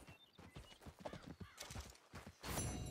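Hooves clip-clop in a steady trot on a video game horse, with a short whinny near the end, all close and fairly quiet, with no talking over it.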